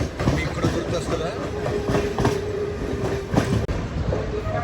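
Howrah–Kanyakumari Superfast Express rolling past Chennai stations, close rumbling wheels and clattering rail joints with a faint squeal, while someone talks over the train noise.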